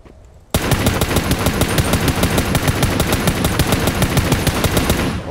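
Rapid automatic gunfire in a video game as a player shoots at a car: after a brief quiet moment, a loud, continuous stream of closely spaced shots runs without a break until the end.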